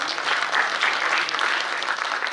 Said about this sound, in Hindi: जोरदार तालियां एक बार और।